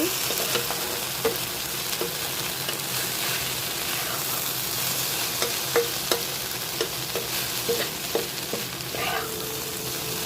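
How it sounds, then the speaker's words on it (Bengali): Sliced okra fries in a pan with a steady, close sizzle while a spatula stirs it, giving scattered scraping clicks over the constant crackling hiss. "আজকে রেসিপি ঢেঁড়স ভাজি।"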